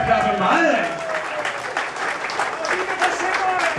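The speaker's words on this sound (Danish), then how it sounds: "han bliver der klappet meget af" An audience applauds a musician at a concert, a steady wash of clapping from many hands that stays loud and even throughout, with voices faintly audible underneath.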